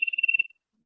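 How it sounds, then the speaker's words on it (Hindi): A small electronic buzzer driven by a rapidly varying PWM voltage, swinging roughly 0 to 2.5 volts, emits a steady high-pitched tone with a fast pulsing flutter for about half a second close to the mic, then cuts off to silence. "बजर की आवाज आ रही है"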